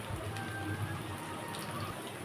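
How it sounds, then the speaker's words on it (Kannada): Peas and capsicum fry in hot oil in a pan for masala upma, giving off a soft, steady sizzling crackle that stays quiet and even for the whole brief moment. "ಬಟಾಣಿ ಮತ್ತು ಕ್ಯಾಪ್ಸಿಕಮ್ ಎರಡು ಹಾಕ್ಕೊಂಡು ಎಣ್ಣೆಲೆ ಫ್ರೈ ಮಾಡ್ಕೊತಾ ಇದ್ದೀನಿ"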